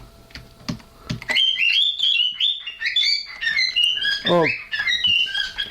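An indoor bird chirps and whistles continuously in bright, rapid trills close by, over keyboard typing, with a brief spoken exclamation near the start.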